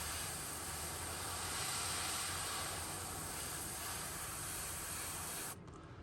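A paint spray gun applying custom paint to a toy gives a loud, steady hiss at close range for about five seconds, then cuts off abruptly.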